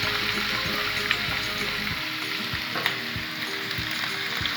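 Minced beef for Kenyan samosas fries in hot oil in a pan, a steady close sizzle broken by a few soft knocks and stirring scrapes, with no voices.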